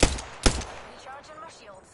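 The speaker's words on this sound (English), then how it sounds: "Cluster's firing." Knuckle Cluster firing in the video game Apex Legends: two sharp, loud, close blasts about half a second apart, each trailing off into a fading rattle.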